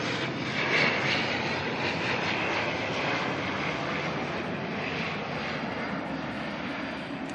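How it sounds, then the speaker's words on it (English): A steady, loud roar of a passenger airplane, flight NZ5028 from Napier, at Auckland Airport, a broad continuous engine rush that holds through the whole stretch without speech. "This is NZ5028 from Napier."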